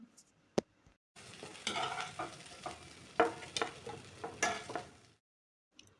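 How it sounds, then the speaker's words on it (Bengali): Bitter gourd slices fry crisp in oil, a faint sizzle broken into irregular bursts with stirring scrapes and clicks, bracketed by near-silence at the start and end. "করলাগুলোকে খুব কড়া করেই আমরা ভেজে নেব।"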